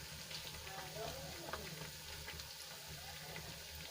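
Leftover roti snack frying in a pan as it crisps underneath, giving a soft, steady sizzle with faint crackles that stays quiet and even throughout.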